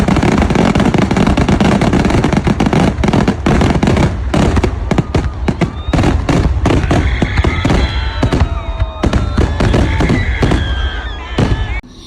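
A festival fireworks display at Amakkavu temple in Koottanad, Kerala, with a dense, continuous barrage of loud firecracker bursts and booms that are close, overlapping and relentless, with crackling whistles near the end.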